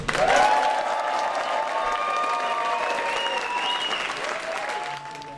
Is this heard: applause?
yes